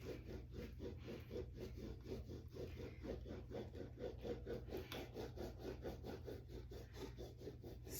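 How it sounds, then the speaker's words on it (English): A massage scraping tool works the skin just above the knee in short repeated strokes, a quiet, even rasping rhythm of about three scrapes per second, close and alone. "I'm tipping the tool and I'm just doing little scrapes because it's a little tight right there."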